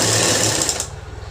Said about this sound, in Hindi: तो ऐसे ही हम इसके ऊपर सिलाई लगा लेंगे।